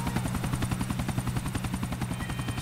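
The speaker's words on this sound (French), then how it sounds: "Hélico blanc-rouge, plutôt voyant." A red-and-white helicopter in the video game GTA IV flies close by, its rotor chopping in a steady, rapid, loud rhythm with no speech over it.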